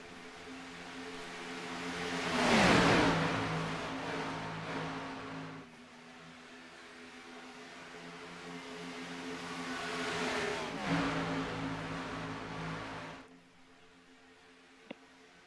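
Race cars in the NASCAR iRacing video game sweep past in two loud engine passes, each swelling to a roar then fading into a steady distant hum, with a sharp click near the end.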